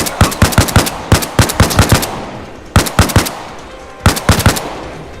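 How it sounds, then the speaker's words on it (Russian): Bursts of rapid gunfire, several volleys of close, sharp shots in quick succession with brief pauses between them, ringing out loudly. "Выстрелы"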